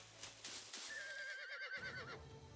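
A horse in Birushana Senki whinnies loudly and shrilly as it is startled into rearing on its hind legs, the wavering cry rising over low background sound and lasting about a second and a half.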